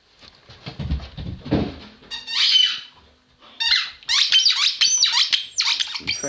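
A dog's squeaky rubber ball toy squeaks in quick repeated bursts, loud and close, after a stretch of louder handling noise near the start.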